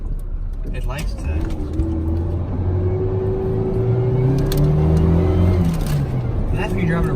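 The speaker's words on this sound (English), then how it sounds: "That's when you're driving a really high RPM to drown out the noise of the fan" A pickup truck engine hums at high revs with a steady whirring tone from its noisy fan that rises and falls, loud and close throughout.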